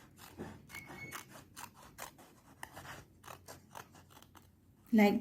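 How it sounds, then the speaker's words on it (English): Scissors snip through paper in a steady series of soft, crisp cuts during a classroom craft demonstration, ending in a louder rustle. "from another side you can cut it like this"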